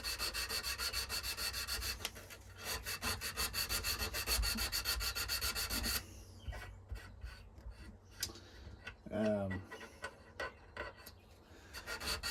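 Hand sanding a knife blade with 180 grit paper, close rhythmic back-and-forth rasping strokes, dense and steady at first, then slower, separated strokes with a brief squeak midway.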